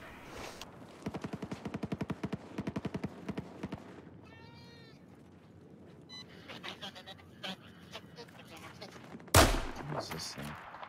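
Rapid bursts of video game gunfire crack out in quick regular volleys over the first few seconds, then scattered single shots and a loud blast near the end, with game sounds mixed in.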